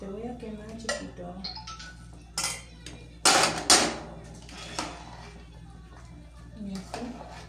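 Pinto beans are stirred in a cooking pot with a spoon, giving scattered close metallic scrapes and clinks, loudest in a brief cluster midway, with someone talking in between.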